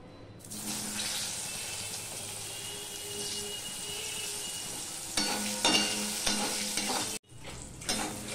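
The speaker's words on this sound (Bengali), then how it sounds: "সবার প্রথমে আমি বেগুনগুলো ভেজে নেব।" Salted eggplant pieces with turmeric frying in a pan, a dense continuous sizzle close by, with clattering stirring near the end, a brief cut, then sizzling resumes; no talking.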